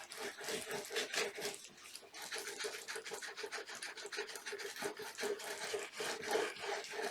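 Paint being rubbed and lifted on the surface of a 3D art piece, a continuous dry scratchy rasping with quick repeated strokes, close and steady throughout, no voices.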